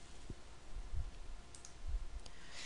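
A single soft computer mouse click in a quiet room, brief and close, with faint background hiss.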